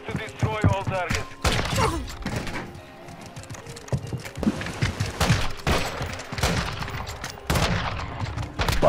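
Rapid marksman rifle shots crack out in bursts during a video game match, loud and close, with clicks and a voice talking over parts of the gunfire.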